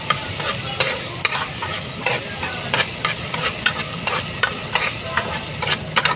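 Shrimp paste (alamang) fries in a pan for pakbet: a continuous loud sizzle punctuated by sharp, irregular clacks of a utensil stirring and scraping, close and alone with no talking.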